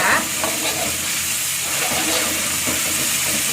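A chili mixture sizzles steadily in a frying pan as it is stirred, a close, constant hiss with faint scraping movements throughout.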